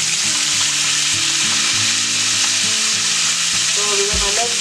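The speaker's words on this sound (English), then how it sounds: "fry from the other side for a little while." Fish crisp-fries in hot oil with a loud, dense, continuous sizzle, and low bubbling and crackling pulses roll underneath it the whole time.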